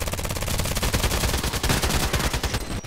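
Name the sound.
gunfire in video game Contract Wars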